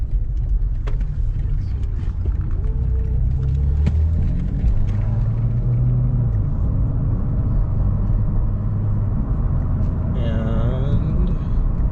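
A car drives along city streets, with a low, steady engine and road rumble running throughout, a voice talking over it and a brief higher tonal sweep near the end.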